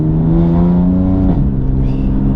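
A BMW M4 F82's engine pulls hard in third gear, a loud, rising drone from inside the cabin that climbs, then dips briefly as the revs settle.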